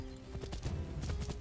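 Horse hooves clip-clopping in the video game Assassin's Creed 3, a quick run of close, moderately loud steps over a steady low hum of game ambience, with no talking.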